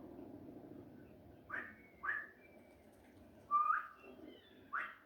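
Short whistles to pigeons in the Spider-Man 2 video game, four or five brief rising tones spaced apart over a quiet ambient background.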